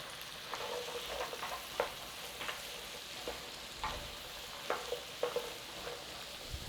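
Onions, garlic and carrots sauteing in a pan for a Guinness shepherd's pie, a steady soft sizzle with intermittent stirring scrapes and taps, close and fairly quiet with no talking.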